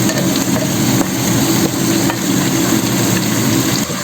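Mixed vegetables such as beans, capsicum, long beans and onions stir-fry in a pan, giving a steady, loud sizzle with scraping and stirring throughout and no talking.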